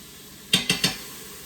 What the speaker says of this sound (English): we're just going to stir that around for about a minute